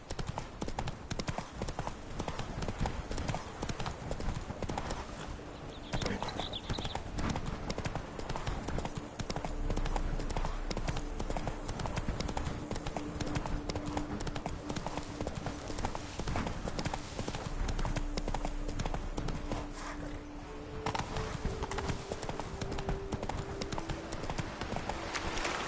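Hoofbeats of Roach, Geralt's horse in The Witcher 3: Blood and Wine, gallop in a steady, continuous clip-clop rhythm throughout, loud and close over a dense game soundscape with a faint tone in the background.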